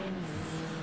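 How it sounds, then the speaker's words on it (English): BMW touring car engine revving hard under acceleration in a racing video game at the Nürburgring, a brief, steady, droning engine tone heard close up. "Giving that absolutely plenty of beans in the only way the BMW knows how"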